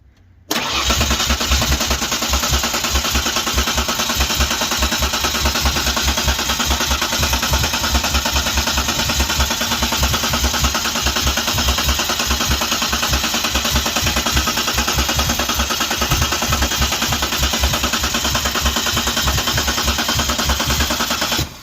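A 1992 Ford Ranger's freshly installed 3.0L engine starts and settles into a steady, loud idle that runs continuously and close by, with no talk over it.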